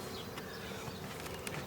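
A dense swarm of honeybees drones steadily around open beehives late in the day, a continuous close buzz with a few individual bees flying past the microphone.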